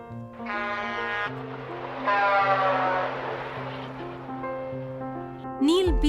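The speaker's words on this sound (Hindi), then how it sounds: "तभी एक ट्रक जोर से हॉर्न बजाता हुआ" A truck blasts its horn as it passes close by on a street at night in a Hindi romance drama, a loud rising honk near the end over a busy traffic and music bed, with speech heard earlier.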